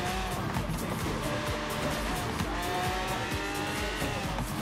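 Lamborghini Centenario racing in Forza Horizon 3, engine roaring steadily up close with repeated sharp tire squeals and skids throughout, no talk.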